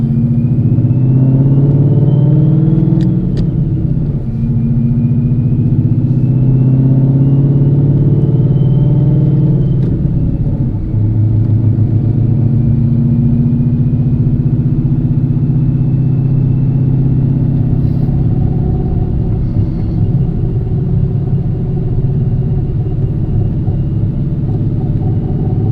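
A Whipple supercharged 2016 Ford Mustang GT with a T56 Magnum XL manual swap cruises on a road, a steady, loud, low engine rumble with gentle rises in revs, heard from inside the car without talk.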